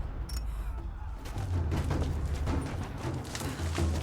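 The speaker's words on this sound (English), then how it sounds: "I hear gunfire." Rapid gunfire crackles through a combat scene in Rise of the Tomb Raider, repeated bursts of shots at moderate distance over a low rumbling backdrop.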